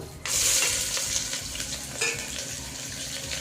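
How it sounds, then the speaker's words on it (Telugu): Three thinly sliced onions drop into hot oil for a spicy Andhra-style mutton curry, setting off a sudden loud sizzle that settles into steady frying hiss with occasional stirring scrapes. "ఇక్కడ సన్నగా కట్ చేసి పెట్టుకున్న మూడు ఉల్లిపాయలు వేసుకుంటున్నాం"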